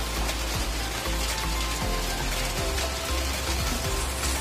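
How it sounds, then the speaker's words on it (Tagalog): Heavy rain pours steadily in Dasmariñas during a storm, a dense, continuous hiss of drops on surfaces with a low rumble underneath and no break. "wala pa rin tigil ang ulan, lalong lumakas dito sa lugar namin sa Dasma"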